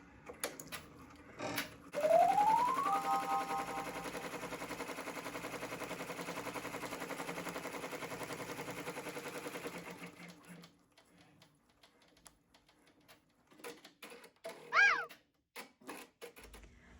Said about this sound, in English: Hit return and start stitching.